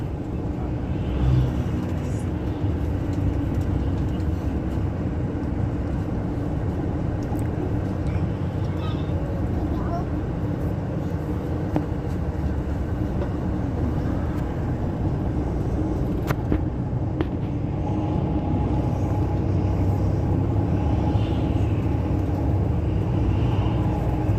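Steady traffic rumble rolls along a new highway, with a low, continuous roar of passing vehicles and occasional higher whines, loud and close throughout.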